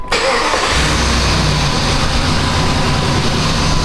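A Jeep with a misfire cranks and catches near the start, then settles into a steady, loud mid-pitched idle that runs evenly to the end with no talk.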